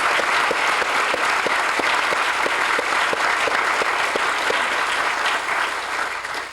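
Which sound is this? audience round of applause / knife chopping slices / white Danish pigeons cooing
audience round of applause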